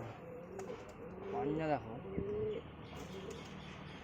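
Domestic pigeons coo close by in a home loft, a soft rolling warble rising and falling over a couple of seconds, with a person speaking briefly alongside.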